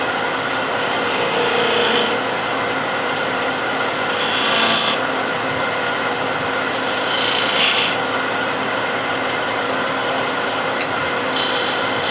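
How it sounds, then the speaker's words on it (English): A skew chisel crisps the corners of a turned wooden piece on a lathe, a steady loud rasping, scraping hiss running continuously with a few brighter surges, close and alone. "just with the skew I'm going to crisp the corners here"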